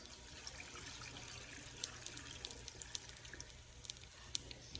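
Water poured into a pot three-quarters full of chilies, a soft steady trickling splash with faint bright droplet ticks over a low background hum, quiet and close.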